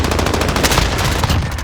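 Dense, loud automatic gunfire crackles without pause in a Call of Duty Search and Destroy match on the Sawmill map, bursts overlapping throughout.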